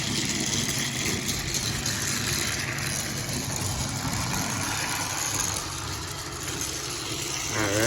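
A motorized Thomas Trackmaster toy engine, Percy, running around its track with a continuous buzzing motor whir and rattle. The sound is steady and fairly loud throughout.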